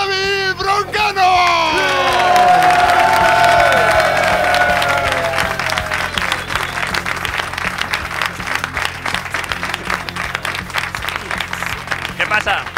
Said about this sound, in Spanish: Un fuerte aplauso para David Broncano.